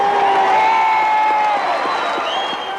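A crowd of 5,000 packs Glenferrie Oval at a 1991 sporting event, cheering their heroes. Loud, sustained cheering with high whoops and shouts rises and holds throughout, with no speech.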